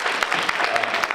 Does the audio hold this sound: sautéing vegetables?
no